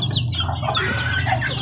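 A mother hen clucks protectively over her chicks, a close run of short, agitated clucks and throaty calls that carries without pause through the whole moment, with no other sounds competing.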